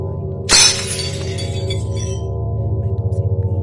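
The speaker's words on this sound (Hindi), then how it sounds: "मेज पर रखा कांच का एक गिलास खुद ब खुद जमीन पर गिरकर चकनाचूर हो गया" A glass tumbler drops from a table in a mountain cabin and shatters on the floor: one sharp, loud crash with scattering shards, over a steady low drone of background music.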